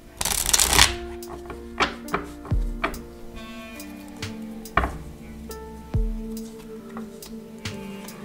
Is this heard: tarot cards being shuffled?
yes